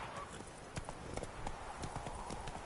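A horse trots through a medieval fantasy setting in The Witcher 3 video game. Steady clip-clop hoofbeats sound fairly quiet against a soft ambient background.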